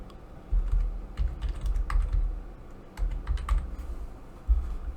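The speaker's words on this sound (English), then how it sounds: "type in The Lost Dozen" Quick bursts of keystrokes on a computer keyboard, close and fairly quiet, in short uneven runs separated by brief pauses, with no voices.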